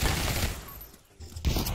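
Dense video game gunfire rattles loudly in sustained bursts, dipping briefly before resuming at full volume.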